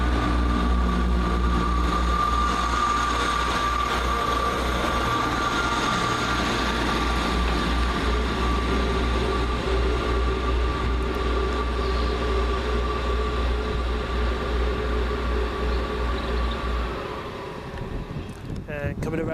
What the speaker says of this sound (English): here comes my train, the 1521 First Great Western service from Port of Harbour to Cardiff Central